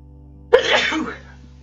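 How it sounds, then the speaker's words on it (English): One sharp, close sneeze from a man bursts out suddenly and trails off in a breathy rush over about half a second against a quiet background. "I gotta sneeze."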